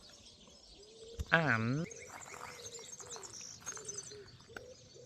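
Woodland birdsong in a warm, breezy Spanish setting near Zaragoza, with a loud cooing pigeon or dove call close by and scattered chirps and tweets around it, and a single spoken word heard over the birds.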